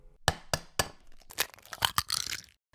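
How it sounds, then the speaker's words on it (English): An egg is cracked open with a few sharp taps against a hard edge, followed by crunchy shell breaking and a brief scraping rattle, close and fairly quiet with no voices. "Crack, that's an egg being opened."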